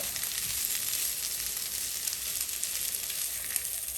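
Potatoes frying in a pan for a loaded baked potato dish, giving a steady, bright hissing sizzle that stays constant throughout with no talking.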